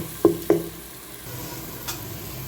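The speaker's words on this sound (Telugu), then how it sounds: "ఈ కారం పచ్చి వాసన పోయే వరకు ఒక రెండు నిమిషాలు ఫ్రై చేసుకుందామండి" Chili powder and turmeric masala fry in a pan for a mutton head curry: two sharp spoon knocks against the pan come early over a low, steady sizzle, then a lone faint tick near the end, with no voices.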